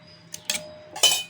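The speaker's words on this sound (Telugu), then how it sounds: "అటుకులన్నీ మిక్సీ జార్లో అయితే వేసేసుకుంటున్నాను." Soaked flattened rice (poha) goes into a mixer jar with a few close, brief clinks and clatters of metal and utensil against the jar, separated by short gaps.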